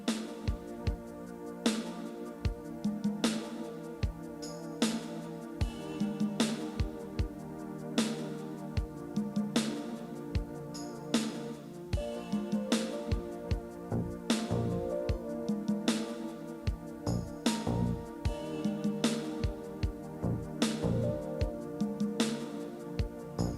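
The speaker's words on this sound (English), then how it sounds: "here's the sound of just the synthesizer" Direct output of a synthesizer, recorded dry with no room sound, playing a steady sequence of sustained tonal notes and chords over a regular percussive pulse, loud and clean with no voices.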